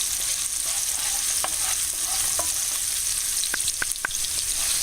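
Onions and garlic sizzle steadily in a pan for a chicken omelet, a constant close frying hiss with a few sharp clicks and pops near the end, no voices.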